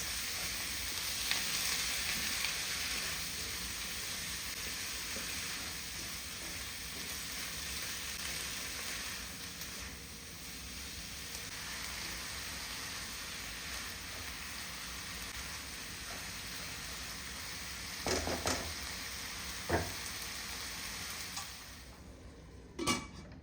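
Roughly 500 grams of salted tomatoes frying in a pot for chicken and vegetable soup, giving a continuous, even sizzle with a few faint stirring clunks near the end.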